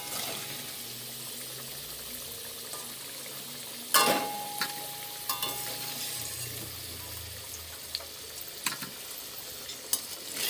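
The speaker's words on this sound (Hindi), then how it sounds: "इसको लाल होने तक फ्राई कर लेंगे।" Chicken pakoras fry in a pan, a soft, continuous sizzle broken by a loud clatter of stirring, then scattered scrapes and knocks against the pan as the cooking continues.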